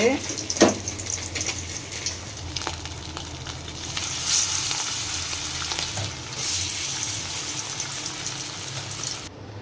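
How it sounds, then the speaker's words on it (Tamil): Fish deep fries in hot oil, giving a steady close crackling sizzle with occasional clinks and stirring noises during a rainy day. "காஞ்ச உடனே மீனை தூக்கி உள்ளே போட்டு பொறிச்சோம்னா சூப்பராக முறுமுறுன்னு வரும்"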